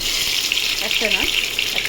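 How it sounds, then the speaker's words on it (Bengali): Dried red chillies sizzle in hot oil in a wok, a steady bright hiss near the microphone, with a voice briefly heard in the background. "কড়াইতে শুকনো লঙ্কা ফোড়ন দিয়ে দিলাম।"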